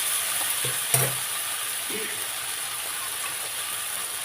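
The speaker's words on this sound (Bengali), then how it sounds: "একটু ভেজে নেব।" Okra frying in a pan, a soft steady sizzle with a few stirring clatters and scrapes near the start.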